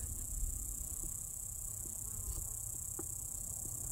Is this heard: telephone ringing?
no